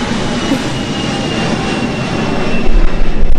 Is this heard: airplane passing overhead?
yes